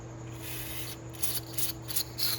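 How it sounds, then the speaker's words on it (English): Steady hissing spray of cleaner through the carburetor of a 1984 Honda XL250R motorcycle, close by over a low mechanical hum, with a few brief louder bursts of spray near the end. "we're spraying out the middle"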